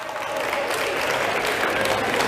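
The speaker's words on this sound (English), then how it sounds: "Give yourselves a round of applause." A keynote audience breaks into steady, dense applause that builds quickly and holds at full strength, a large crowd clapping together without letting up.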